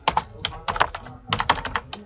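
Keys clatter on a computer keyboard as text is typed into MS Word, in quick clustered bursts of sharp clicks with a brief pause in between, near and clear.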